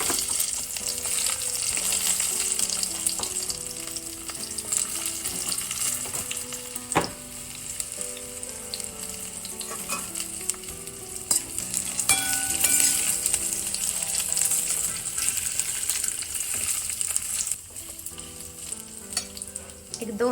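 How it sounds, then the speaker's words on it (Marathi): Small pieces of chopped dates cook in ghee with a continuous close sizzle, punctuated by scattered clicks and scrapes of a spoon stirring the pan. "आता याच तुपामध्ये मी असे खजुराचे बारीक बारीक तुकडे केलेत. ते मी जरा असा खजूर असा इथे या तुपामध्ये थोडासा शिजवून घेणार आहे."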